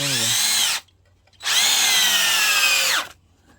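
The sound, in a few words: power drill driving 3-inch screws into wood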